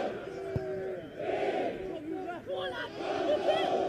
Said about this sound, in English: The crowd are up here at Oundle trying to cheer their team on.